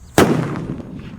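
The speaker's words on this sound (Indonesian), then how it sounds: "Jadi yang mau coba dibuntal dengan kertas bisa gunakan mercon halilintar seperti ini guys" A halilintar firecracker wrapped in paper goes off outdoors with a single sharp, loud bang that rings and decays over about a second.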